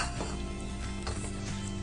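Sugar syrup for gulab jamun boils in a pan, a short, close bubbling hiss with faint clinks of a utensil, steady for under two seconds.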